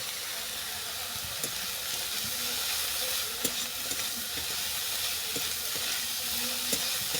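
Moringa flowers fry in a pan with salt and turmeric, a steady close hiss of sizzling oil broken by occasional soft clicks from stirring.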